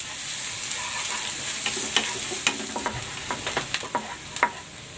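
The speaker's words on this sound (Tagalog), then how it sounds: "Igigisa ko na itong bawang. At ang sibuyas." Garlic and onion sizzle steadily in hot oil in a pan for restaurant-style fried rice, with a constant frying hiss and scattered crackles and spatula scrapes from close by.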